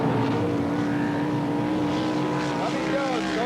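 Race cars roar around Ascot Speedway at a 1984 heat race, a loud, continuous engine drone with pitch rising and falling as the cars pass, heard alone without talk.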